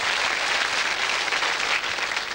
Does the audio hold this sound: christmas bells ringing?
no